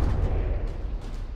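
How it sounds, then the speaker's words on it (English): Shells from the Danubia side detonating early in From the Depths, a dense, continuous low rumble of booming blasts with repeated bursts rolling together throughout, loud and unbroken. "Danubia shells detonating a little early there."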